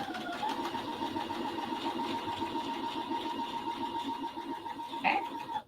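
Sewing machine chain stitching quilt block pieces for a disappearing nine patch, running steadily at close range with a fast, even whirring hum that continues almost unbroken for several seconds before a brief clunk near the end.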